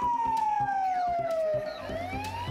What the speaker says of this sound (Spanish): ¿y si prendemos la sirena?